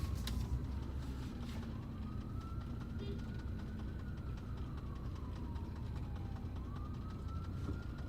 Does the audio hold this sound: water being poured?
no